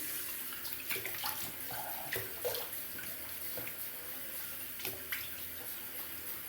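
Running tap water rinses away after a shave, a steady soft gush with small splashes as hands move through the stream, close and quiet, with no talking.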